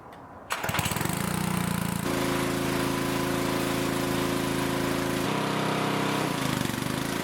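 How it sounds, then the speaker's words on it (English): A gas pressure washer cranks and catches at about half a second, then runs steadily and loudly up close, its engine drone holding level with slight shifts in pitch through to the end. "I'm going to go ahead and crank up this pressure washer"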